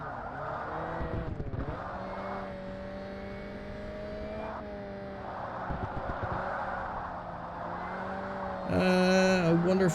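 Race car engine in the Forza Motorsport video game, a continuous droning whine with shifting pitch as the car accelerates and eases, rising to a louder, harsher burst near the end.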